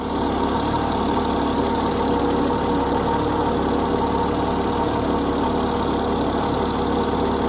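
A 1988 BMW E30 engine idling at about 680 RPM, a steady, even mechanical drone with a faint knocking texture, close and continuous with no talk.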